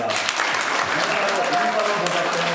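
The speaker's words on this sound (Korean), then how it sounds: "박수로 격려하겠습니다." Sustained applause of encouragement from a church congregation during a small-group lecture, a steady dense wash of clapping that fills the whole moment, with faint voices mixed beneath.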